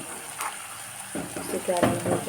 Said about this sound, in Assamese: পিঁয়াজখিনি ব্ৰাউন কালাৰ অহালৈকে মই ভাজি থাকিম